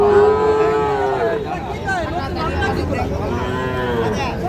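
A young Sahiwal bull calf at a busy cattle market lets out one long, loud moo, followed by a second drawn-out call, with crowd chatter and voices murmuring underneath.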